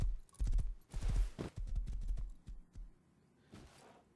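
Horse hooves clip-clop in the video game Rust, a close, uneven run of hollow thuds that bunch together, then thin out toward the end, with no talking.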